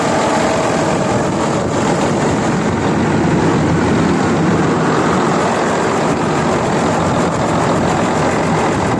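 A 455-horsepower Volvo diesel engine running steadily, a loud, continuous low-pitched drone that holds an even level throughout with no talk over it.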